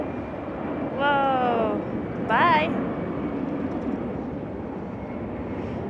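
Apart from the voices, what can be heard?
airplane flying overhead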